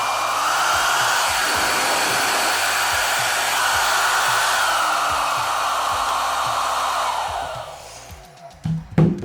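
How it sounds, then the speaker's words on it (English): A Feekaa anion hair dryer blows a loud, steady rush of air close by for about eight seconds, then cuts off, followed by a few handling clunks. "And then I can increase the intensity of the airflow."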